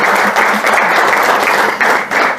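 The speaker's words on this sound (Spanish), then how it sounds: "quiero pedir un aplauso para nuestro director general de Open" A large audience applauds in a dense, loud burst of clapping that stays continuous and close throughout, with no pauses.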